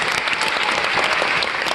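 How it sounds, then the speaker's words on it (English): A dense, sustained burst of audience applause fills the room at an event, many hands clapping loudly and evenly throughout with no pauses. "Can you give them a huge round of applause?"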